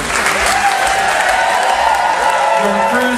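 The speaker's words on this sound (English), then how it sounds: "And a round of applause for Taylor" Audience on a JoCo Cruise ship gives steady, dense applause after a concert bingo game, a full room of clapping with scattered cheers that holds at constant loudness for several seconds.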